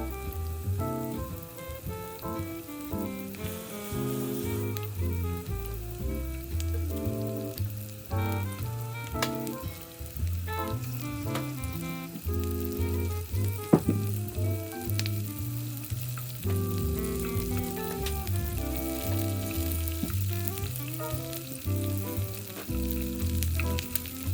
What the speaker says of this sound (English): we're going to get a roast on these peppers by frying them